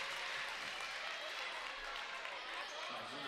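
A home crowd cheers and applauds at a women's college basketball game between Indiana Wesleyan and an opponent, filling the arena with a steady, dense roar. It carries on without a break, with commentary running underneath.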